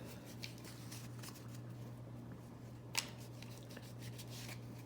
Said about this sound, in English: The shuffling, of course, takes a little bit of time.